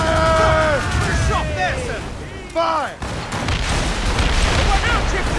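Ship cannons fire in a naval battle, heavy booming blasts with a sharp crack near the middle, over dense roaring battle noise and descending whistling tones.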